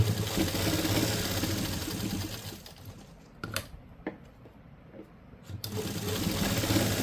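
An electric sewing machine runs fast, stitching a folded seam on a simple suit, with a steady whirring rattle that pauses for a few seconds with small clicks and handling, then resumes.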